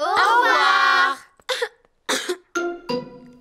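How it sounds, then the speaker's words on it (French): Cartoon characters in French-dubbed Peppa Pig cough in short, childlike bursts, several separate coughs following a longer voiced sound, loud and close. "Danny Dog et Suzy Sheep ont attrapé la toux de Pedro."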